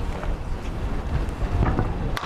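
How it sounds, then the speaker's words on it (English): Wind gusting outdoors at a college baseball game, buffeting the microphone with a loud, continuous low rumble that swells and fades over a couple of seconds. "This wind is blowing."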